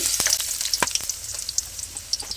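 Chopped onions sizzling in about two tablespoons of hot soybean oil, a steady close frying hiss broken by a few sharp spits and pops, with no talking.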